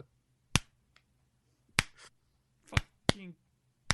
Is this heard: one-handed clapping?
yes